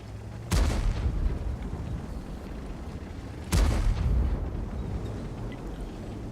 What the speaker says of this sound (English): Kentry just put a couple of blind shots towards where those AMX-50Bs were